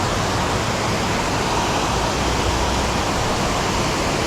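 A creek waterfall roars in a continuous, dense broadband rush, loud and steady, with no talk over it.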